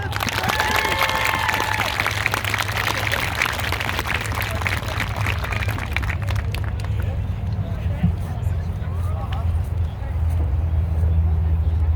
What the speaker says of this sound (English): can we have a round of applause for Mohammed?